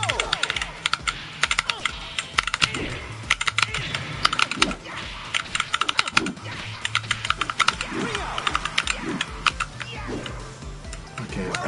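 Rapid, clustered clicks of buttons pressed on a Snack Box Micro all-button controller during gameplay, busy and irregular, with speech in the background.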